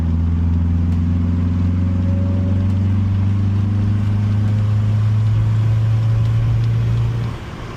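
A Honda Civic engine held under load while brake boosting gives a steady, loud, droning hum close by. It stays level for about seven seconds, then drops away at the end.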